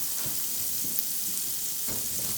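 Slider buns toasting in a pan of bacon fat and butter give a steady close sizzle and crackle, with a few soft bumps and shuffles from the buns being moved around.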